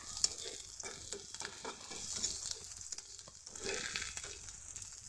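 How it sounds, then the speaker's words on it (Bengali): Vegetables fry lightly in a pan at home, a soft, close sizzle broken by repeated scraping strokes of a spatula stirring them, with no voices. "তো চলো আমি এগুলো হালকা ভেজে নিচ্ছি"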